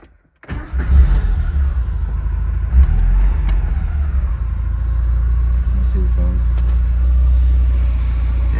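An old Porsche project car's engine starts and settles into a steady, close, loud idle with a low rumble, a couple of brief blips early on, running continuously with occasional voices in the background.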